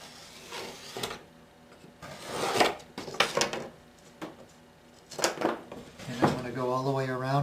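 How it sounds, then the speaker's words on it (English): An X-Acto knife scrapes and drags through the edges of a textured square clay slab for a plate, giving several short, close rasping strokes with pauses between them; a voice starts talking near the end. "I'm going to cut all 4 edges straight. I'm going to use an X-Acto knife for this."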